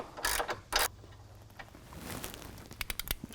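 Ratchet loosening the frame bolts of a Jeep JL front bumper, with two loud bursts of clicking early on, then quieter fiddling and a run of sharp ticks near the end, close and without talk.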